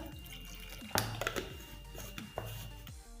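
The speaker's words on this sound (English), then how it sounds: "So I'll be adding just a little water to enable it to blend well." Small amounts of water added to a blender while making a homemade skin toner, with splashes and trickles in short bursts and a few clinks, all heard close.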